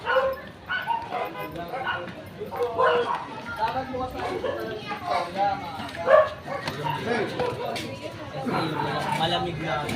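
A dog barks and yips repeatedly in short bursts throughout, with some whimpering, heard close under continuous talking and chatter from several people outdoors.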